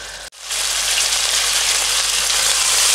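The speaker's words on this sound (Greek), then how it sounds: "μόλις η μπριζόλα ξεκολλάει, ροδίσει από τη μια μεριά, γυρνάμε και από την άλλη" Pork neck chops drop into a hot pot and start searing, bursting into a loud, dense sizzle after a brief silence and crackling steadily from close by.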